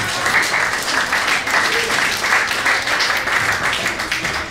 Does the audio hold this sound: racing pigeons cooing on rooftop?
no